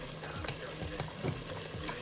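Beef goulash with browned beef and softening vegetables cooks in a pot, a soft, steady sizzle and bubbling with occasional stirring scrapes, close by.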